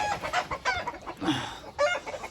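Native chickens cluck and squawk nearby, a few short bursts of close, moderately loud calls with brief pauses between them.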